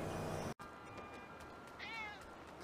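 A cat meows once clearly after a brief dropout, with a wavering tonal cry standing out over steady background noise.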